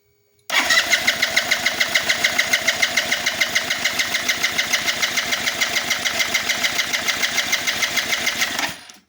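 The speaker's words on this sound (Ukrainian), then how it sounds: "Ще раз спробуємо на старі, що воно каже" A Kymco People S 200i scooter with a fuel-system fault cranks and starts, then idles roughly and unevenly in loud, rapid regular pulses for about eight seconds before cutting off, heard up close with no talking.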